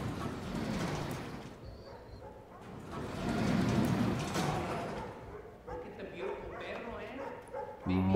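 Dogs bark and yip at a dog fight in the video game Watch Dogs 2, several bursts over a few seconds with whimpers mixed in, moderately loud amid game background noise.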